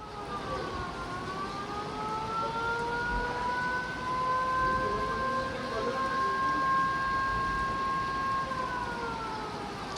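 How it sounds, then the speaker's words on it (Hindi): A dam warning siren at the Barot hydel project in Himachal's Barot Valley wails steadily for the whole stretch, a long sustained tone over rushing background noise, sounded before river water is released during heavy rain. "एकदम से पानी छोड़ दिया इन्होंने, मतलब सायरन बजा के"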